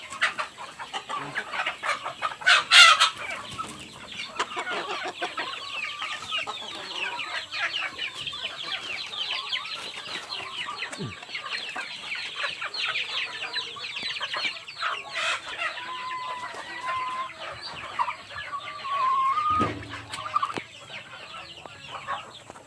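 Chickens and ducks, alongside turkeys and goats, feeding on an organic mixed feed on a farm, with steady clucking and rooster calls throughout, a brief louder squawk near the start and outdoor ambience.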